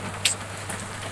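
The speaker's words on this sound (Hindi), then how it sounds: "बारिश।" Rain falling steadily outdoors at the start of a day, a soft continuous hiss with a couple of brief sharper drip or splash accents, no voices.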